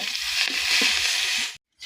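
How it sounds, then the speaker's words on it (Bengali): Onions sizzle steadily in hot oil, a bright crackling hiss that holds loud and even before stopping suddenly. "এবার এগুলো আমি লাল লাল করে ভেজে নিব"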